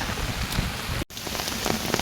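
Steady rain hisses and patters densely on nearby surfaces, with a brief dropout midway before the downpour continues.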